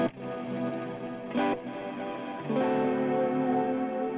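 Distorted electric guitar through an Axe FX 3 plex delay set to 125 ms holds sustained chords with a few strummed attacks, the repeats blending into a thick, shimmering wash.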